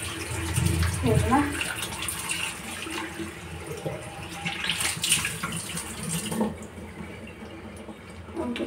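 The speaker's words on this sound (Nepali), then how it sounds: "म चाहिँ यहाँ पानी थाप्दैछु, पानी हाल्नको लागि" Tap water runs into a container in a steady, close rushing stream, strongest at the start and easing later, with a brief spoken word over it.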